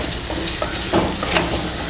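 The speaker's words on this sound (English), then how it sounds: "1 full cup of shallots I have taken and saute it very nicely" A cup of shallots sautéing in a pan for prawns theeyyal, a short, even sizzle with faint stirring scrapes.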